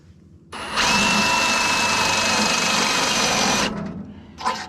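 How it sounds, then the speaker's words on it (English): A power drill whines loudly at a steady pitch for about three seconds while drilling a hole in metal on a sawmill, then winds down, followed by a short final burst. "I wouldn't necessarily drill the entire hole with the bit through here"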